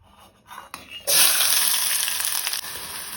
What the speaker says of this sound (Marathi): तेल तापले तशें तातूंत हांव कांदो आनी हरवी मिरसांग घालता।